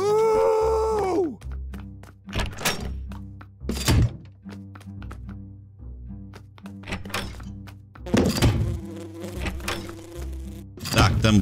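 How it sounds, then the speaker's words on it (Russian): Bees buzz in the video game Lucky Tower Ultimate amid sharp repeated thunks and game effects, with bursts of buzzy tones rising and falling over roughly eleven seconds. "Так, там пчелы."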